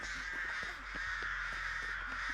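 Crows cawing in the video game Dead by Daylight, several harsh repeated caws over a steady droning game ambience, no talk.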